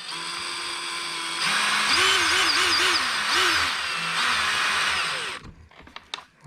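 Power drill countersinking screw holes in a battery tray for an X-Maxx RC truck, a loud whining motor that revs in several short pitch swoops, then stops abruptly with a few clicks.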